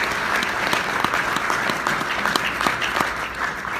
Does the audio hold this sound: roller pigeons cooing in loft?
no